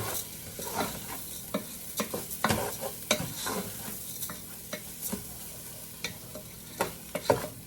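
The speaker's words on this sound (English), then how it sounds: "We'll give it another stir." Rice and vegetables for jambalaya toasting in a pot while being stirred: a low, soft sizzle broken by frequent scraping knocks and clatters of the spoon against the pot, all fairly quiet with no talk.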